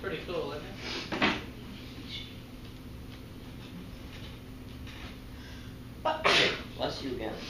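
Two sharp sneezes, one near the start and another about six seconds later, burst out over a quiet indoor room with a steady background hum.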